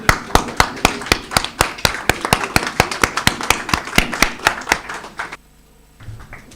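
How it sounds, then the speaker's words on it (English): A steady, rhythmic run of sharp handclaps, close and evenly spaced like an audience clapping in unison at a conference session, stopping abruptly after about five seconds and leaving near silence. "give yourselves a round of applause."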